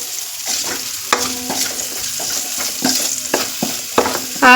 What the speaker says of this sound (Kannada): ಮಸಾಲೆ ತಳ ಆಗ್ತತ್ತ ಸ್ವಲ್ಪ ಹಂಗೆ ಕೈ ಆಡಿಸ್ಕೊಳ್ತಾನೆ ಇರಿ